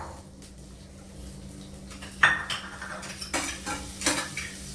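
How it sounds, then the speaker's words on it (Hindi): Cumin seeds crackle in hot oil in a pan while cooking, a soft steady sizzle with a few sharp clinks of a spoon stirring against the pan, close and alone without talk. "अब देखिए जीरा मेरा थोड़ा सा तड़क रहा है।"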